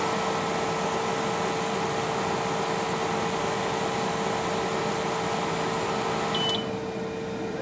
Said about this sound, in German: Das Förderband fährt weiter.